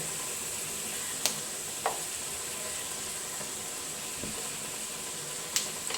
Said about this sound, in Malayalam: മുളക് പൊടി ഇട്ട് കൊടുക്കാം.